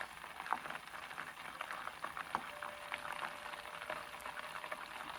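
Butter cooking down in a pan while making granola, a steady crackling sizzle with scattered pops, close and continuous at moderate loudness with no talk.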